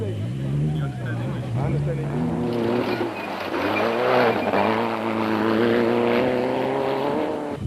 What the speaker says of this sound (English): Nick Gosler and Richard Carolyn in the Kopanang Hotel race car were 16th and 2nd in Class S.